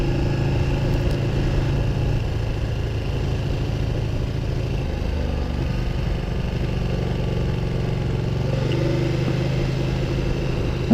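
A Ducati 1299 Panigale engine running at low revs below 3000 rpm, knocking and chugging with a steady, loud, uneven rumble, heard close up and alone for the whole stretch.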